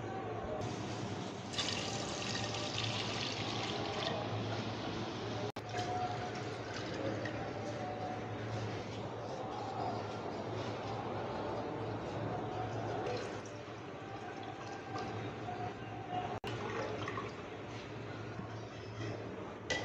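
Water is poured into semolina in a pan while making suji halwa, a steady rushing, bubbling hiss that carries on for the whole stretch at moderate loudness.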